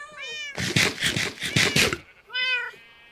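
A Minecraft cat meows in a quick run of four or five close, loud calls, with single stretched meows just before and after, alone and without talk.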